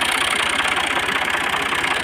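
A 2013 Ghazi tractor engine idles steadily, its low, even diesel chugging pulsing close and loud without a break.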